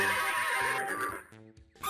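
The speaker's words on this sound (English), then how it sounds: "Horse." A single horse whinny rises and wavers for about a second, close and clear, then trails off into quiet.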